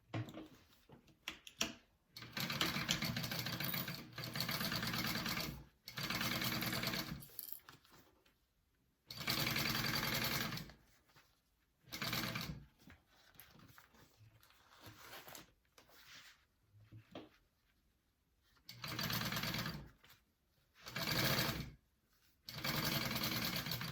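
A sewing machine bastes fabric at a 1/8 inch seam in repeated bursts of fast stitching, close and clear, with quiet pauses and small handling clicks between runs.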